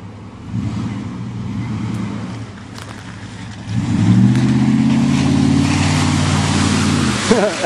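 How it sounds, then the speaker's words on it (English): A Dodge truck drives through mud on a farm with a droning engine that rises and revs harder midway, sustaining a louder strained roar before easing near the end. No one speaks. "A little bit of Dodge muddin here."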